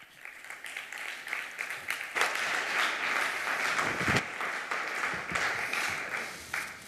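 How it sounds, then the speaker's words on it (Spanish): An audience at a panel discussion gives sustained applause, a dense steady patter of many hands clapping for several seconds, heard from within the room with no one speaking over it. "Vamos a darles un aplauso."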